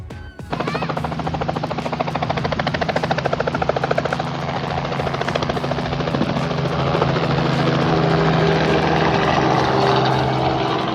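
Helicopter flying along Australia's Great Ocean Road near Melbourne, its rotor drone loud and steady from start to finish with no talking.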